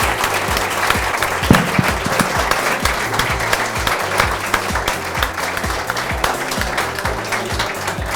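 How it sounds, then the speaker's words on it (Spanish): An audience at a lecture applauding a professor, dense sustained clapping from many hands filling the room, loud and even throughout with no talk. "por favor, un aplauso para el profesor"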